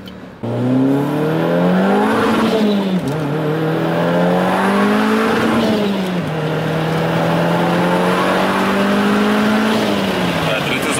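An Audi S3 fitted with a GTX30 turbo, running high boost, revs hard and close in several long, loud rising pulls that drop back between them, with no clear talking.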